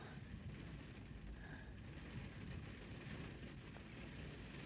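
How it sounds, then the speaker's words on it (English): Rain falling steadily, a soft, faint, continuous wash of patter with no other clear sounds. "it's raining."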